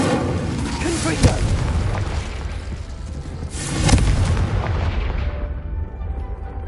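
Booming Confringo spell blasts in the video game Hogwarts Legacy, a sharp hit followed later by a heavier explosion with a rolling rumble over a dense bed of game noise.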